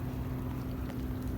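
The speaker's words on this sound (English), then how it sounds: "There's a nice barge up the river too" A barge working somewhere up a river gives off a steady, low engine drone that sits under a constant wash of wind noise for the whole stretch, with no voices.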